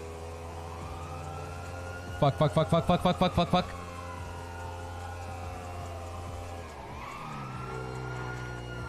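A police motorcycle siren wails in a roleplay video game chase, a loud rapid electronic yelp pulsing for over a second, then sliding pitch over steady engine drone, with a man cursing briefly.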